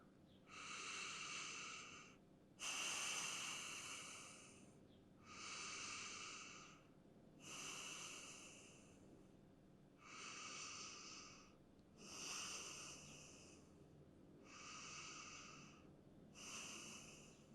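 Slow, deep breathing during a gentle lower-body yoga flow, a steady series of about eight long, even breaths spaced roughly two seconds apart, close and soft, with no talking.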